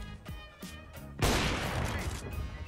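Gunfire in the video game Overwatch: a few separate sharp shots, then a loud, dense burst of rapid fire that carries on to the end, with a voice talking over the start.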